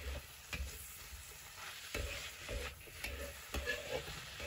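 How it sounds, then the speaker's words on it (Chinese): Mushrooms with green and red peppers stir-fried in a wok give a steady sizzle, with the spatula scraping and clattering against the pan in irregular strokes throughout. "就可以下入蘑菇了，青红椒一并放进来，将其煸炒开"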